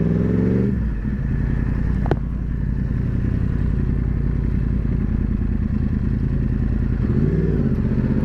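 A motorcycle rides through Sydney traffic, its steady engine drone and road rumble close and continuous, with a brief rev at the start and another near the end.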